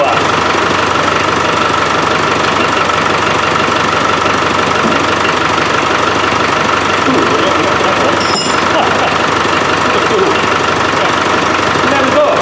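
A Land Rover 300Tdi diesel engine with hard-starting trouble runs steadily nearby, a loud continuous knocking clatter throughout, with a brief sharp knock partway through.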